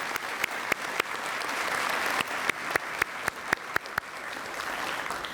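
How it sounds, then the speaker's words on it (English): Audience applause at a State of the City address, a dense steady wash of clapping with a few sharper individual claps standing out near the front, no talking over it. "Let's give him a round of applause."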